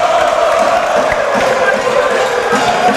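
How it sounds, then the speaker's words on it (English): A crowd cheers and buzzes in a school gym during a high school senior boys basketball game, a steady loud roar of voices filling the space, with a sharp whistle-like tone and a commentator talking over it. "Crowd is going crazy on both sides"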